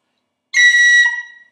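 A single bright tin whistle high B snaps quickly up to C, with a crisp cut at the start, clear and alone.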